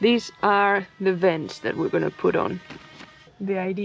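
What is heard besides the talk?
No everyday noise stands out behind the speech.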